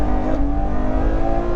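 A Ferrari 812 Superfast's 6.5-litre engine revs hard, a loud, close, sustained howl holding a steady high pitch for over a second with no talking.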